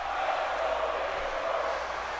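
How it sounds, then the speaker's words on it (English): Crowd in a wrestling video game chants for Big Show, a steady, dense wash of arena crowd noise heard alone and holding at an even level throughout. "the crowd behind the Big Show here saying, "Let's go, Big Show.""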